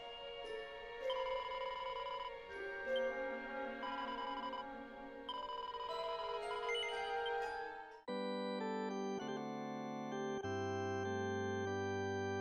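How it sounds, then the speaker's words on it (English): A Steam notification chimes in a continuous ringing melody, bright tonal bell-like notes repeating, then shifting to lower sustained tones midway, steady and clear with no talk. "this Steam notification is not going to go away"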